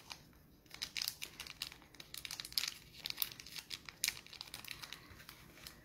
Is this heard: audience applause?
no